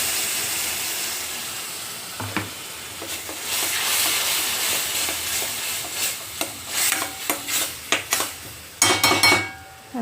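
Spices and onion-masala paste fry in oil in a pan while a utensil stirs and scrapes, giving soft steady sizzling broken by sharp metallic clinks and knocks against the pan, close and alone with no talking.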